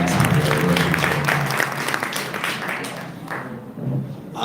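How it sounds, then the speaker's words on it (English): An audience at a community meeting gives Jason House a round of steady, moderately loud clapping that softens toward the end. "Round of applause for Jason House."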